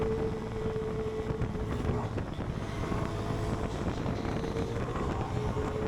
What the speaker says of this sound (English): Yeah, wind.